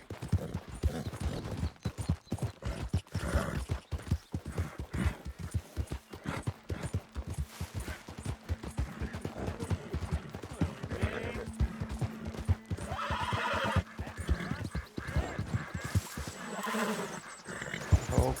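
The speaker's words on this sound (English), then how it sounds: "Ô, o cavalo lá longe, hein?" Horse hooves clopping in a steady gallop rhythm in Red Dead Redemption 2, with a neigh and whinny partway through, loud and continuous over a faint low rumble.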